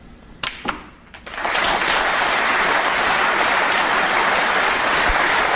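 Snooker audience bursts into sustained, loud applause for a century break, steady dense clapping filling the room after a couple of sharp knocks at the start.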